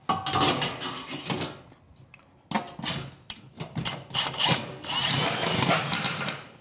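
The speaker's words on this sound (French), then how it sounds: "Je vais ensuite faire mon départ de cloison avec un R48 que je vais visser sur mon mur" A cordless screwdriver drives screws to fix an R48 metal rail for a partition wall onto a wall, with bursts of whirring and ratcheting clicks separated by short pauses, close and fairly loud.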